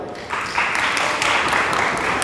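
Applause from a group of students in a Hindi-language polity class, rising suddenly and holding as steady, dense, fairly loud clapping for about two seconds.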